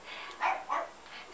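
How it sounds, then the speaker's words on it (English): A pet dog barks indoors in a few quick, mid-loud yaps spaced out over a moment, with no talk over them. "Stop barking!"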